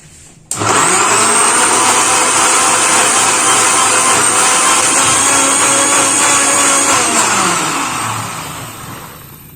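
A loud blender whirs steadily for several seconds after starting abruptly, mixing a milkshake with vanilla ice cream, its motor pitch holding constant before winding down at the end.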